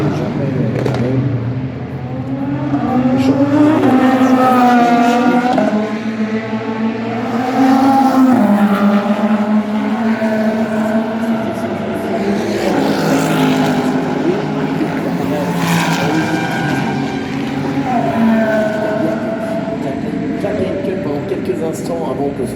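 Race cars lapping during the fourth free practice session of the Le Mans 24 Hours, engines rising and falling in pitch as they pass, steady and loud throughout under continuous commentary.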